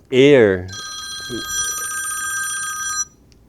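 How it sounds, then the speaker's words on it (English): A telephone bell rings in one sustained metallic trill lasting a couple of seconds, following a brief spoken word from a man at a town meeting. "Well, that's a phone call already."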